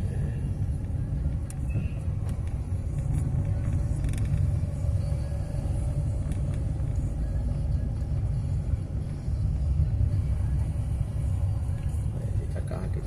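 Car driving along a quiet residential street in Jardim Roseli, with a steady low engine and road rumble and occasional creaks that continue throughout.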